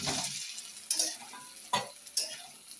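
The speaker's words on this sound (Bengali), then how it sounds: "মশলাটা কষানো হয়ে গেছে, এখন ডিমগুলো দিয়ে দেব।" Eggs go into a pan of sizzling, fried-down spice paste for an egg curry, giving a quiet sizzle broken by a few crisp clinks and stirring scrapes.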